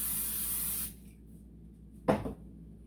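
Nonstick cooking spray hisses onto a pan in one sustained blast for almost a second, then a quiet pause and a brief clatter as the can or pan is handled nearby.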